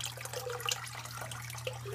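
Water runs steadily through the tubing of a homemade aquarium canister filter, a soft continuous trickle and gurgle with a few brief bubbly splashes over a constant low pump hum.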